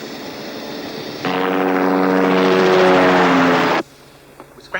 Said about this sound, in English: now we lay on a helicopter